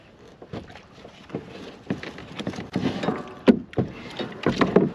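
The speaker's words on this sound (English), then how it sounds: "now that we're out of the marina, we'll stow the paddle, deploy the drive" On a Malibu pedal kayak just out of a marina, a paddle is stowed and the pedal drive fitted into place, giving a series of close hollow plastic knocks and clunks amid light wind and water noise.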